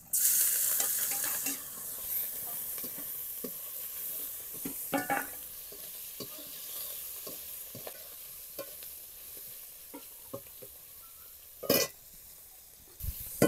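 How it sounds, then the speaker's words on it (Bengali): Prawns fry in oil left over from frying potatoes, a soft steady sizzle with scattered clicks and scrapes of stirring and a couple of sharper clatters near the end, heard close but quietly. "এখন এই তেলের মধ্যে আমি চিংড়ি মাছগুলো দিয়ে ভেজে নেব।"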